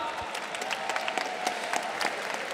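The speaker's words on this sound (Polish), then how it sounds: "Wielkie brawa!" Crowd applause rolls on at an MMA event's octagon interview, moderately distant and steady, with sharper individual claps standing out and a faint tone running underneath.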